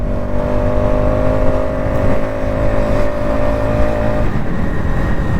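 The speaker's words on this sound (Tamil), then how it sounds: "சவுண்டை பாருங்கள், வண்டி சவுண்டை." Motorcycle engine held at a steady loud drone with sustained harmonic tones through a ride on the road to Kodaikanal, with no voices, a slight shift in pitch near the end.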